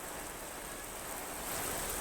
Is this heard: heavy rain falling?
yes